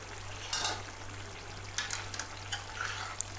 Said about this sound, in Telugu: బాగా కలియబెడుతూ ఉడికించండి.